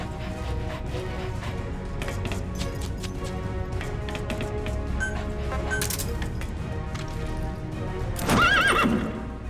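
Horse neighing and galloping hooves from Metal Gear Solid V: The Phantom Pain, with a steady clip-clop of running hooves throughout and a loud, close whinny near the end.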